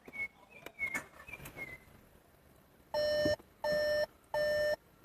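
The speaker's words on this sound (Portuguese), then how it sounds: "Ele tá apitando porque eu tô com as portas abertas, tô sem o cinto aqui" A Volkswagen Polo's electronic warning chime beeps for open doors and an unfastened seatbelt in steady, evenly spaced pulses, loud and close, after some quieter clicks and tones.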